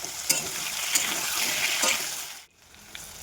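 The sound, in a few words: potatoes frying with green chillies, stirred in pan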